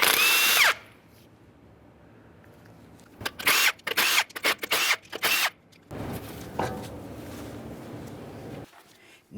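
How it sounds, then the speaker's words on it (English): A power tool spins off the 19mm lug nuts from the wheel of a 2013-2020 Ford Fusion in a series of loud, close, short bursts, with quieter clanks and handling noises between bursts. "continue on to removing all 5 of your 19mm lug nuts and we can get the wheel off of here."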